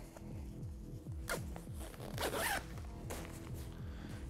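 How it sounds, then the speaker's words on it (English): Backpack bat wing panels being zipped together in the middle, a close, soft zipper rasp in a series of rapid pulls, steady and uninterrupted. "I'm gonna zip them together in the middle."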